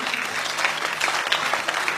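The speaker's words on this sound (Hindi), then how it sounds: "मित्र एक बार तालियां बजाएं" An audience at a Hindi-language speech bursts into dense, continuous applause, a steady wash of many hands clapping at close range for about two seconds.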